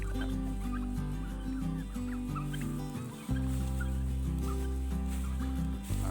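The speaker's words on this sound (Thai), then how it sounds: "ไก่พื้นบ้าน ไก่ชนที่เราเลี้ยงไว้" Native chickens and fighting cocks, kept alongside turkeys at a backyard coop, cluck faintly and irregularly over a steady low hum, with short calls scattered through the stretch.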